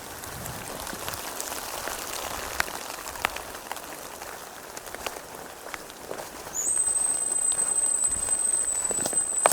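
Steady rain patters through a jungle near a creek, a dense broadband hiss with scattered drop hits, growing somewhat louder toward the end, where a faint high insect-like whine also appears.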